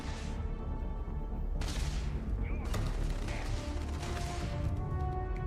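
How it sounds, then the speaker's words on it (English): Gunfire in the video game Starfield, a dense, continuous rattle of shots and bursts with a couple of louder cracks, heard at a moderate distance within a busy game soundscape. "What are they shooting at?"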